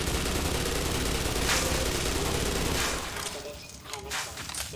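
Continuous loud gunfire in Black Mesa, rapid overlapping shots forming a dense roar that eases slightly after a few seconds into more scattered bursts, with a voice talking over it.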